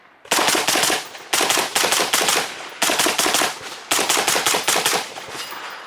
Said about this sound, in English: So we just mag dump this thing.